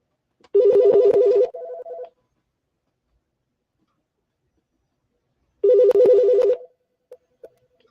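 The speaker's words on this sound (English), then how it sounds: "The handset has some delays ringing." A telephone handset rings twice: two loud trilling bursts, each about a second and a half long, separated by several seconds of silence.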